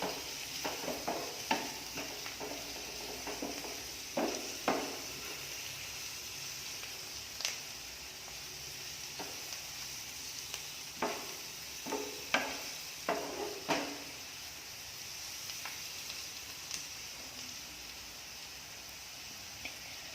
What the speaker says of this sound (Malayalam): നന്നായിട്ടൊന്ന് ഇളക്കി കൊടുക്കാം